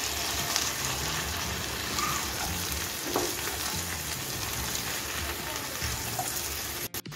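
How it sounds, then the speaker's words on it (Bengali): Vegetables fry and sizzle steadily in a pan on a gas stove over low flame while being stirred, with a continuous close hiss and faint scraping throughout. "এখন আমি হালকা গ্যাস একটু নাড়িয়ে দিচ্ছি।"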